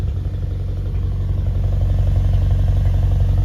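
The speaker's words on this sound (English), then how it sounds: "let you guys listen to this stock exhaust" A BMW X5M on its stock exhaust idles steadily, a deep, even, fairly quiet rumble with a low throbbing pulse and no revving, close and uninterrupted by voices.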